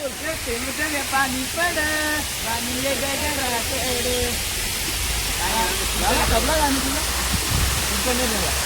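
A waterfall at Matheran roars as a constant, broad rushing wash under nearby people chatting.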